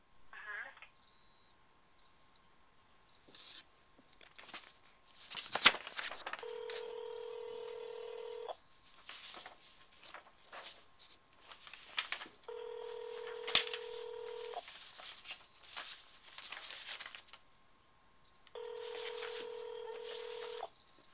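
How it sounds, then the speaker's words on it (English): Telephone tones sound three times as a call is transferred to voicemail. Each is a sustained, steady tone lasting about two seconds, separated by quiet line noise and faint clicks. "I'm going to put you back through Kim's voicemail"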